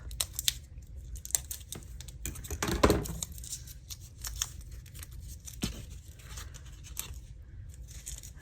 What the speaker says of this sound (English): Trim the white part off.